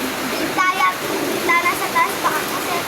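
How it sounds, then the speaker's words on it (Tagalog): Heavy rain pours in a steady rushing hiss, like running water, while people talk and laugh nearby over it. "Malakas ang ulan ngayon."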